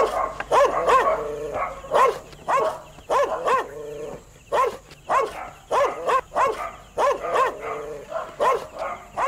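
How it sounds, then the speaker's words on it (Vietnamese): A village dog barks in rapid, repeated bursts, loud and close, keeping up a steady rhythm of barks with short pauses between groups. "Đứa nào chơi chọc chó nhà ông đấy?"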